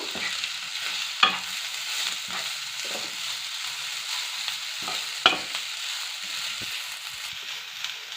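Rice-flour chowmein gets mixed with spices in a hot pan: a constant sizzle and rustling stir runs throughout, broken by a couple of sharp utensil knocks against the pan, close and unaccompanied by speech.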